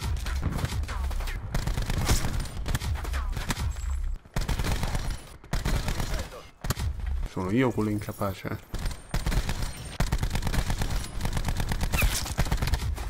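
Video game gunfire comes in bursts of rapid shots and volleys, broken by short gaps, while a player talks over the action.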